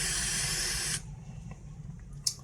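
A turbo torch lighter burns with a loud, steady gas hiss for about a second, then drops to a quieter low roar with a brief sharp click near the end.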